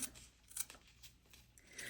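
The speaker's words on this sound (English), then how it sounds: "This is where you want to definitely use your cheap scissors and not your good sewing scissors." Cheap scissors snip through fabric-scrap washi tape in a few quiet, separate cuts, with a final sharper snip at the end.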